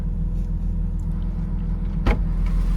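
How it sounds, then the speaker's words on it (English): A Porsche 986 engine idles steadily with a low, even rumble after a throttle body cleaning cured its fluctuating idle, close by, with a brief whooshing burst of wind noise partway through. "The fluctuating idle is gone and it's fixed."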